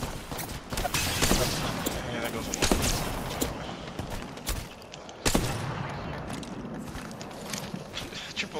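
Rapid bursts from a Flatline assault rifle in Apex Legends, sharp shots cutting through a busy firefight, with players talking excitedly over the action.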